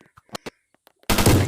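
Gunfire in the Roblox video game, a few sharp separate shots followed by a sudden loud sustained burst of blasting, close and alone.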